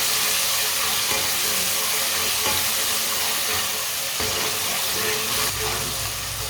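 Finely chopped tomato cooking in a pan for a Punjabi shalgam (turnip) dish, a steady close sizzle and fry hiss with occasional stirring scrapes, continuous throughout.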